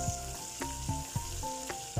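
Four green chillies sizzling in hot oil in a Kerala kitchen, with a brief steady crackling fry punctuated by a few rhythmic utensil taps, no voices.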